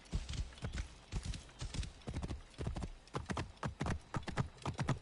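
Horse hooves in Assassin's Creed Origins pound in a quick, steady galloping rhythm, close and clear, with no voices over them.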